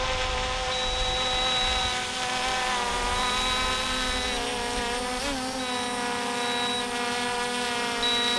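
Ruko U11 Pro drone hovering about a metre away, a steady buzzing propeller whine with layered harmonic tones held evenly throughout, loud and close with no talk.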